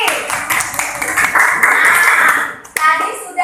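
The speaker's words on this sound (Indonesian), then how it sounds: "Tepuk tangan buat Rifki." Classroom clapping for a third-grade student at an elementary school, a burst of many small hands lasting about two and a half seconds, fairly loud and close, with children's voices mixed in.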